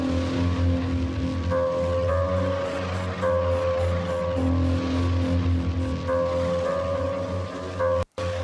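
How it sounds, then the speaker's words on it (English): Heavyocity Mosaic Leads synth snapshot called 'The Disturbed' plays as a loud, dense, gritty sustained lead with shifting tones and a rhythmic pulsing texture, alone without voices, ending in a sudden cut. "The first one is called The Disturbed and it sounds like this."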